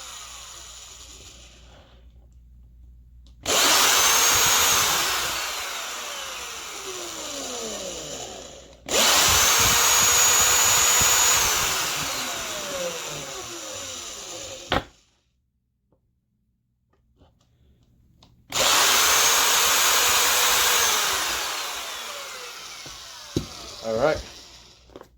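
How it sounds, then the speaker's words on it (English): A power drill runs in three long bursts separated by pauses, whining close up as it bores holes into a wooden Fender Telecaster guitar neck, with faint talk between bursts. "Drill the holes."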